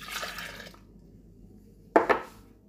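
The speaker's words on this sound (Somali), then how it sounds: "boorashkaan ku shubayaa" Warm oat milk porridge poured into a bowl as a short liquid splash, then quiet and two quick clinks of a dish, close and fairly soft.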